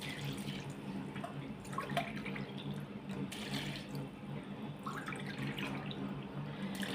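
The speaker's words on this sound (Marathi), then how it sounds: "आता ह्याच्यात आपण पाणी घालायचंय मग अशी पाणी आपण दोन पेले घातलं होतं" Water pouring from a tap into a cooking pot of soaked rice for matar pulao, a continuous splashing stream with a few drips, moderately quiet and without talk.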